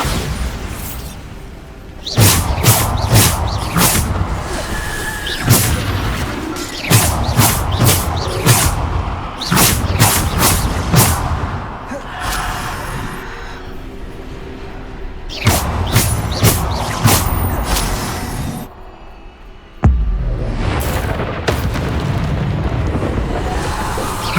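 Repeated Bombarda spell blasts from Hogwarts Legacy go off in loud, dense bursts, clusters of booming explosions separated by short pauses across a long stretch of combat.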